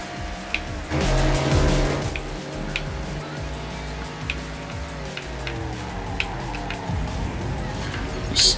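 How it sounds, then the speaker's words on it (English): A car drifts in the racing game Ridge Racer Unbounded: a steady, rising engine whine carries a burst of tire scrub near the start and a few sharp ticks, with nobody talking. "Just drifting unnecessarily."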